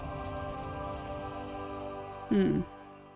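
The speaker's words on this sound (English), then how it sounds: "Wait, is it really raining on space? Because we're supposed to be out in space, right? So it's raining?" Rain falling in the Endless Space 2 strategy game, a soft steady patter of drops under tonal music, with a brief louder blip near the end.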